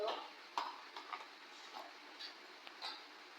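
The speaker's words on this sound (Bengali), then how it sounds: "আমরা এভাবেই ভালো করে সুন্দর করে গুলে নিব দেখেন আর এর সাহায্যে যেটা আমার বাসায় লাঠিটা ছিল" Wall paint being stirred with a wooden stick from around the house, giving soft repeated scraping and sloshing strokes at a low, steady level.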